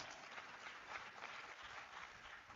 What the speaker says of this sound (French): Merci de lui accorder des ovations.